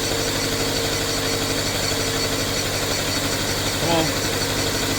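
A 2013 Dodge Dart engine idling right after its first startup, a steady, slightly uneven rumble with a faint knock, running close and continuous for the whole stretch.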